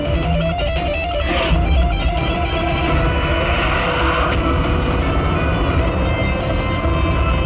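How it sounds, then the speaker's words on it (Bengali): A car races off at speed, its engine roaring loudly and steadily with a faint tyre squeal, close by and without any talk. "মনে হচ্ছে খুনি গাড়ি নিয়ে পালিয়ে গেল"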